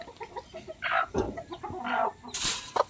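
Chickens and black chicks cluck close by at feeding time, with busy overlapping clucks and cheeps and a brief louder squawk near the end, and no talking.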